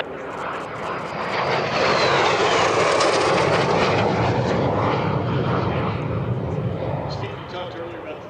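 A T-33 jet trainer making its initial break for landing at an airshow: a loud jet roar builds, peaks overhead with a sweeping whine, then slowly fades, while an announcer talks over it.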